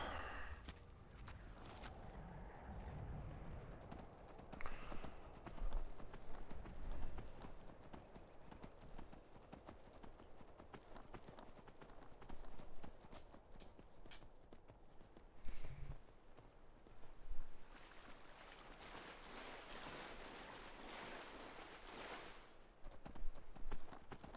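Horse hooves clip-clop steadily while riding in Skyrim, a rhythmic patter of hoofbeats that runs the whole stretch with a few louder swells and a faint whinny, at moderate distance under quiet game ambience.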